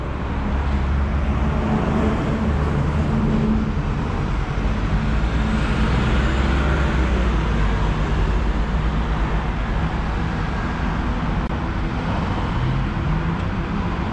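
Heavy road traffic jammed at the edge of Timișoara near a commercial zone, a steady close rumble of idling and creeping cars, buses and trucks that holds at an even level with no talk.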